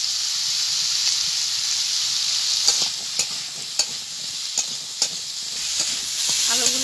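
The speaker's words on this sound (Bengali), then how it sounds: "আলুগুলো আমার ভালোভাবে ভাজা হয়ে গেছে।" Potatoes fry in a pan with a steady close sizzle, while a series of sharp stirring scrapes and knocks lands at irregular intervals through the second half.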